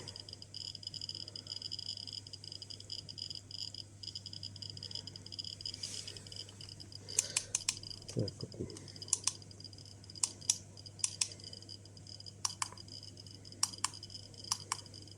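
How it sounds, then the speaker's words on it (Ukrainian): A Geiger counter exposed to pure gamma radiation gives sharp, irregular clicks, sparse at first and then more frequent, over a steady low electrical hum with no talking. "від гамми у нас 27 імпульсів в секунду"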